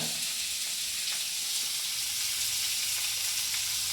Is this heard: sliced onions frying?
yes